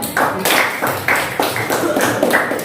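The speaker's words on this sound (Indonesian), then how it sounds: "tepuk tangan buat Rifat" A small group in a classroom claps for a student, a run of about seven distinct, fairly loud, rhythmic claps close by.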